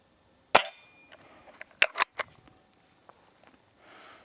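Hatsan Model 25 Supercharger .177 air pistol fires at 10 meters: one sharp crack, then a quick run of three snappy pops and softer mechanical clicks, close and isolated in a quiet room.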